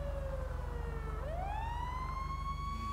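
A fire truck siren in GTA V wails continuously, its tone dipping and then sweeping upward, over a steady low engine hum.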